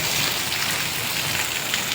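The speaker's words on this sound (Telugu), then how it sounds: "వాన్ చూస్తారా? వాన వాన ఏ వాన." Steady rain falls in a dense, even hiss that continues without a break, fairly loud and close, with no voices over it.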